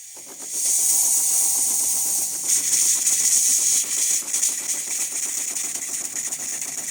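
Steady, loud steam hiss from the steam wand of a De'Longhi Magnifica espresso machine, sustained throughout with slight fluctuations and a faint rumble underneath.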